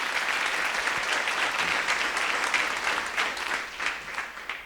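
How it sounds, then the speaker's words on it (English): An audience claps for the FA News initiative at an insurance industry competition event, a dense, even round of applause that holds steady and then gradually thins toward the end. "So a big round of applause to FA News for this initiative."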